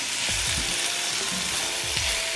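Carrots and watercress sizzle and fry in a hot pan. A steady, loud hiss runs throughout, with soft thumps from stirring or tossing the vegetables.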